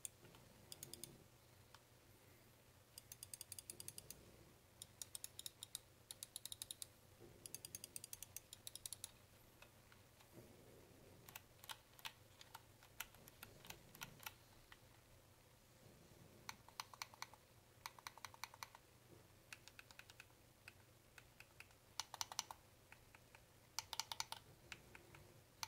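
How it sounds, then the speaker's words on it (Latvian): Sharp plastic clicks from the buttons of an Asus ROG Chakram gaming mouse come in quick close bursts and scattered single presses over a faint steady hum, with no talking. "Tad vēl nedaudz skaņas tests taustiņiem."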